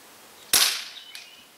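A single sharp crack from an HW77 air rifle fired outdoors at a 100 metre target, loud and close, with a short fading tail and a faint later tick.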